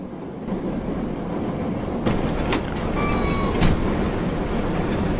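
A steady rumbling train in a PC video game runs along, with a few clattering bumps and a faint metallic squeal partway through.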